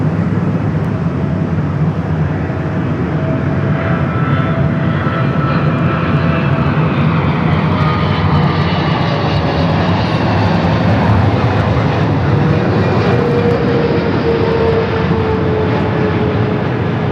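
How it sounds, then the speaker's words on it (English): A Singapore Airlines Boeing 777-300ER lands at LAX, its engines a loud, continuous jet roar with a slowly shifting whine that holds steady for the whole stretch. "Up next, Singapore, coming in from Tokyo, Narita, 777-300ER."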